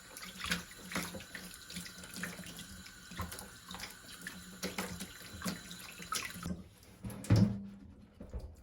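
Somen noodles rinsed under a running kitchen tap, a steady close splash of water into a sink that continues for several seconds, then cuts off with a brief clatter near the end.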